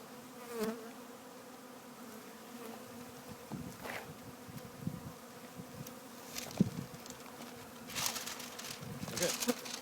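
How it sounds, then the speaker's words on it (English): Honey bees buzz steadily and close up during a hive installation, a dense continuous hum with scattered soft knocks and brushing noises from handling the hive. "Let me go ahead and brush my bees in."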